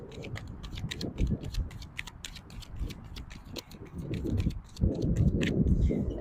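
A tarot card deck being shuffled makes rapid, crisp riffling clicks and flutters in irregular bursts, close and fairly quiet, with no talking.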